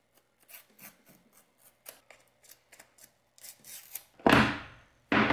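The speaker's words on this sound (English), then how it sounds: "Let's unbox it." An iPhone 15 box being unboxed: a string of short scraping, sliding and rubbing sounds of cardboard and plastic, then a louder rushing slide as the lid lifts free near the end, close up with no talking.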